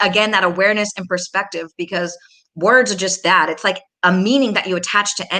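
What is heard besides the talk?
No everyday noises stand out.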